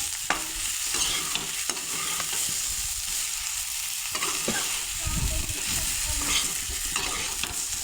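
Brinjal (eggplant) curry with homemade masala being sautéed and stirred in a pan, a steady close sizzle of frying with intermittent scraping stir strokes throughout, no talking.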